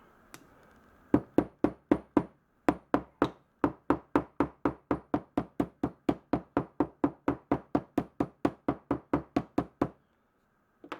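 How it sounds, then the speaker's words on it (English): Rapid, steady taps of a small hammer on wood, dozens of crisp knocks in an even rhythm with a couple of brief pauses, close and distinct. "Grab yourself a little hammer."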